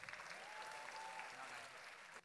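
Audience at a Teachers' Day event applauding after a singing performance, a steady wash of clapping heard from a distance, cutting off sharply at the end.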